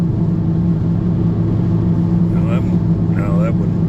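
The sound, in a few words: Chevrolet Monte Carlo SS engine roaring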